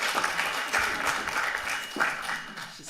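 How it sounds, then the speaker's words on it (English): An audience at a data equity summit breaks into steady applause, a dense, continuous patter of many hands that rises and falls slightly across a few seconds, with faint voices mixed underneath. "Can we actually get a round of applause for"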